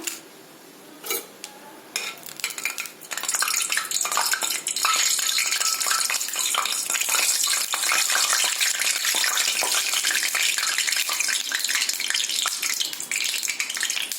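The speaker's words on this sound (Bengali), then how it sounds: "আঁচটা বাড়াই দিয়া সবচেয়ে প্রথম দেব শুকনো লঙ্কা" Dried red chillies hit hot oil in a pan for laal shaak, setting off a loud, steady crackling sizzle that follows a few quieter clinks and lasts to the end.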